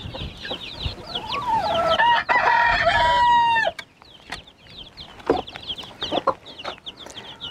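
Gurk chickens (a Turkish breed) clucking and crowing with their chicks, rising to a loud, dense chorus of overlapping calls near the mic, then dropping to scattered, quieter clucks and short peeps.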